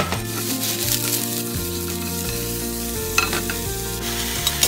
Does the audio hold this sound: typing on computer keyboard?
no